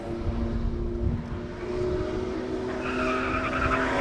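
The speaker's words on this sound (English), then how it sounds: "Pajero hits the anchors" A Mitsubishi Pajero brakes hard on a hillclimb course at a classic car speed event, its engine droning steadily while a rising tire squeal comes in toward the end, heard from a moderate distance without talk.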